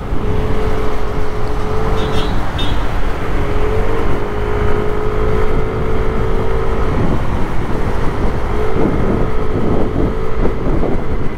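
A Yamaha Aerox 155 scooter with a 1000rpm clutch spring and 12-gram flyball CVT upgrade accelerates and overtakes in traffic, a steady close engine drone with a rising and falling whine over constant wind rush.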